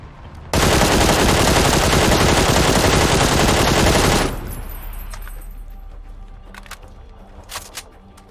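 Sustained automatic gunfire in the PUBG video game hammers at a loot truck on the Sanhok map. It comes as one loud, continuous burst of about four seconds, then cuts off into a quiet tail with a few faint clicks.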